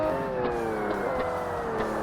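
A McLaren F1 BMW Motorsport racing car in Forza Motorsport on Xbox holds a high, steady engine whine at speed, its pitch sliding gradually downward over a couple of seconds.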